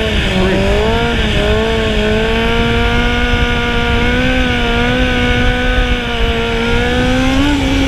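A motorcycle engine revs loud and close in sustained, wavering pitch during wheelie practice, holding a steady drone with small rises and dips rather than sharp blips.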